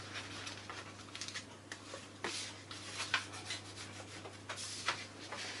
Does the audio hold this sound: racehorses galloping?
no